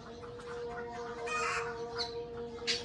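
Birds calling noisily outdoors with a kite perched nearby: faint, scattered sharp squawks and cries over a low background hum, a few calls standing out near the end.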